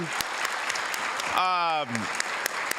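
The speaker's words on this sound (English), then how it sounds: "let's give everyone a big round of applause one last time" An audience at a volunteer awards ceremony applauds steadily, a dense crowd of clapping running throughout, with a voice briefly speaking over it in the middle.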